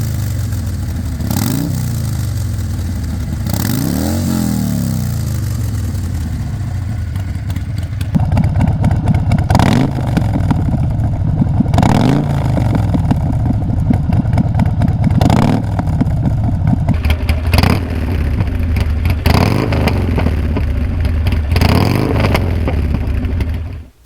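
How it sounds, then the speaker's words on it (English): Aftermarket exhausts on a Harley Sportster motorcycle, revved by a series of sharp throttle blips that rise and fall over a steady idle, loud and close, with no voices. "We're going to do a couple blips of the throttle on each one."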